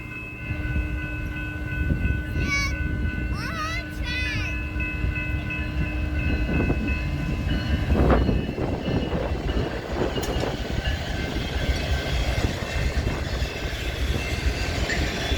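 BNSF 7850, a DC ES44 locomotive, leads an eastbound manifest freight past the diamonds near Lincoln Avenue in Rochelle, Illinois. A loud, continuous rumble of engine and rolling cars builds and holds close by for the whole stretch.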